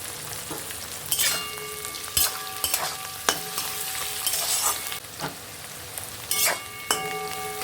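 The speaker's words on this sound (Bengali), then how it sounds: "কোচানো পেঁয়াজটা দিয়ে দিলাম। কাঁচা লঙ্কা চিড়ে রেখেছিলাম, সেটা দিয়ে দিলাম।" Chopped onion and slit green chillies frying in hot oil with cumin give a loud, steady crackling sizzle, broken by sharp metallic clinks and scrapes of a spatula stirring the pan; no talk.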